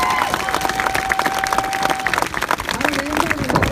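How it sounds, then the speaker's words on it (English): Protest crowd at a Glasgow rally applauding and cheering for a colleague, a broad wash of clapping and crowd noise that continues throughout, with a held whistle-like tone and faint voices mixed in. "give an incredible round of applause to my colleague Alison Phillips"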